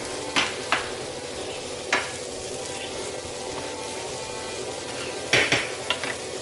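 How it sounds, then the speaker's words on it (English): Mushrooms sautéing on medium-high heat in a pan give a steady close sizzle, broken by a few sharp clinks of a utensil stirring against the pan, with no talking. "my mushrooms have been sauteing on medium-high for about 3 minutes"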